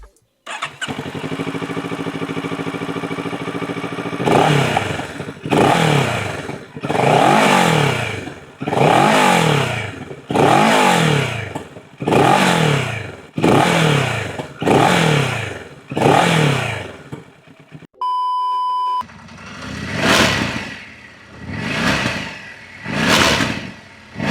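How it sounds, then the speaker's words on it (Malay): A Kawasaki Z650RS motorcycle engine starts and idles, then revs repeatedly in a steady series of rising and falling surges, loud and close, with a brief break near the end. "kita dengar dulu bunyi enjin Kawasaki Z650RS ni"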